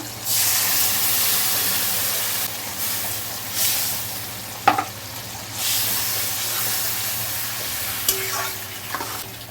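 Spices sizzle in a pan with tomatoes and fried potatoes, a loud steady frying hiss broken by stirring scrapes and a couple of sharp clinks, with a low hum underneath.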